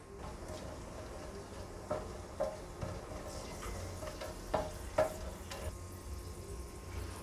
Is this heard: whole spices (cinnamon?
yes